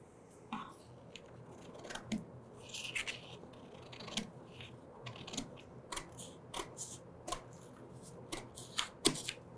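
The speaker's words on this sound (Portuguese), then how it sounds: "Vou vir e cortar com a tesoura." Scissors snip through fabric while cutting dish towel pieces at a sewing table, a series of short, crisp, close cuts in an irregular rhythm against quiet room tone.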